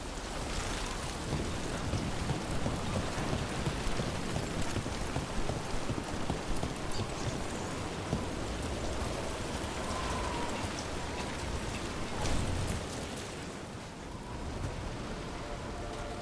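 Steady, heavy rain pours down in the Dragon Age: The Veilguard game world, a dense constant hiss that fills the whole stretch and eases slightly near the end.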